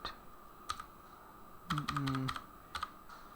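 Keystrokes on a computer keyboard as an AutoCAD command is entered, a few short bursts of clicks with a quick run of taps near the middle, close and fairly quiet.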